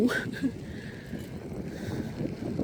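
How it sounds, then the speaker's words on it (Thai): Wind buffeting the ears and microphone while riding a BMW to work in freezing air, a rough continuous rushing roar with a faint voice heard briefly underneath. "ลมพัดหู"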